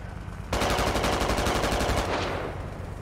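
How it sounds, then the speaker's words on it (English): A BMP armored vehicle fires rapid automatic bursts in the Squad video game, a dense run of evenly spaced shots that starts abruptly after a half-second lull and then fades into the rumbling background. "BMP taking pot shots."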